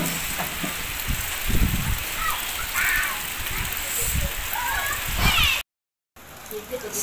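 Heavy rain pours steadily at a garden resort on a cold day, a dense continuous hiss with occasional low thumps and faint voices underneath, briefly cutting out near the end.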